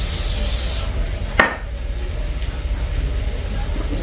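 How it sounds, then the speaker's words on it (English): A burst of cooking-oil spray misted over zucchini fries headed for an air fryer, a short hissing spray up front, then a sharp knock and quieter kitchen handling. "Spray them again."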